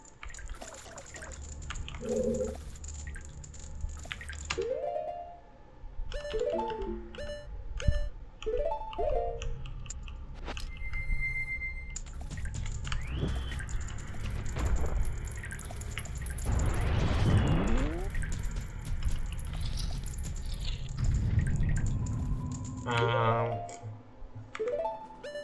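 Hot spring water drips in Zelda: Majora's Mask, with repeated bright plinks and trickles, some game beeps and clicks, and a voice talking over part of it.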